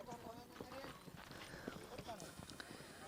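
A Kutch horse's hooves clip-clop steadily during race practice, a young rider aboard, the rhythmic hoofbeats sitting under continuous nearby voices and busy background noise.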